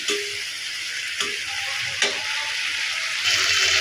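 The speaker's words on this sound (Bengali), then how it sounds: "মশলাটা একটু কষিয়ে নিই" Spice paste with green chillies sautés in oil for a catla fish curry, a dense, steady hiss of frying with a few sharp scraping strokes of a spatula, close and loud.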